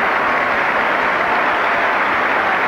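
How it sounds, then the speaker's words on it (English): Spectators at a 1971 Gillette Cup cricket semi-final between Lancashire and Gloucestershire clap steadily, a dense, even wash of applause from a large crowd with no voices over it. "So more enthusiastic applause."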